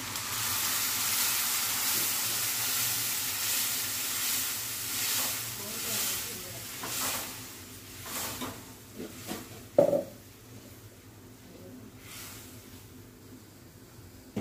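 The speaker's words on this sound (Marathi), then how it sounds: "आपल्याला तेलात थोडंसं असं परतवून घ्यायचंय" Coconut, chilli and spice paste sizzles in hot oil, loud at first and then fading to a softer hiss, with a few scraping stirs and clinks.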